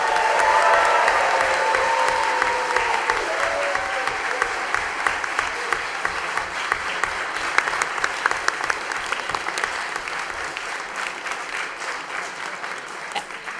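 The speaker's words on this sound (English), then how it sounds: "join me in a round of applause for all of our students' hard work" Sustained audience applause for students at a city school committee meeting, a full steady roar of many people clapping indoors that continues for over ten seconds with slight cheering.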